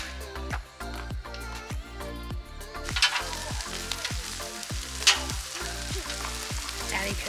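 Sausage medallions and pineapple frying in a pan at a campground, a steady loud sizzle with repeated scraping stirs and clatters, no talking.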